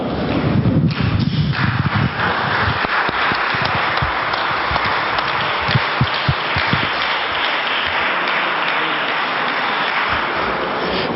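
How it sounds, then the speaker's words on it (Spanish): A lecture audience in a hall, at a talk on religion and science, breaks into applause, a loud, continuous clatter of many hands that carries on for about ten seconds, slightly thinning toward the end. "yo les pido un aplauso antes de marcharnos de esta sala"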